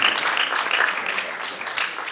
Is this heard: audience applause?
yes